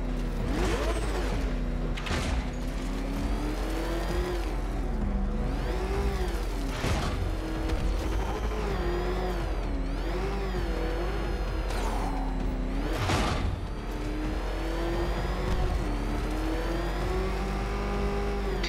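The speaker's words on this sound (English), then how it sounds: "There's more to this test than just going vroom" Batmobile engine in Batman: Arkham Knight revving hard and rising and falling in pitch over a sustained loud growl, broken by several sharp bursts and thuds, no voices.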